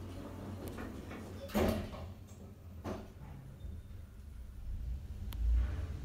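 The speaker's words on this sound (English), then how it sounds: "Doors closing." An Otis 200 lift's doors slide shut with a couple of soft thuds and rumbles over a steady low machine hum, then settle into quiet.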